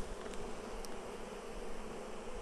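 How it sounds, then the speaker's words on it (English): Dense, steady buzzing of many honey bees in a crowded Flow Hive, a close, continuous drone with no talk. "there's so many bees in this hive that it gets hard to work"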